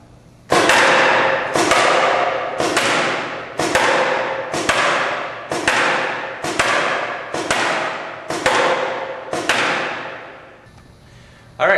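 Ten loud, sharp shots from a GI Micro .50 caliber gun, fired at an even pace of about one per second, each with a quick decaying tail, with nobody talking.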